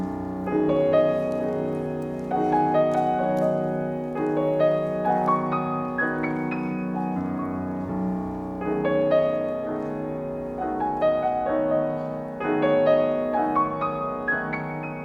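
Piano plays the opening pentatonic melody of Debussy's Pagodes from Estampes: rising and falling tuned phrases over sustained low chords, steady and moderately loud, with no voices.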